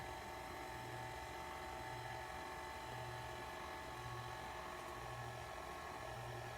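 An electric hand mixer beats banana bread batter at low speed after the last of the flour goes in, giving a steady, continuous motor hum with a faint pulsing rhythm, moderately loud and unbroken.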